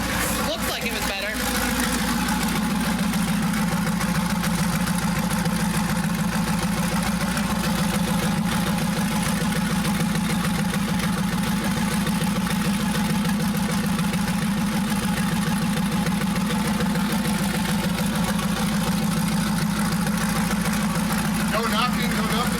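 A Chevrolet Camaro engine idles nearby with a low, even rumble and no knocking, running continuously throughout.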